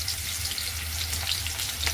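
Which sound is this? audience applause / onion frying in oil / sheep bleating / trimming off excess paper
onion frying in oil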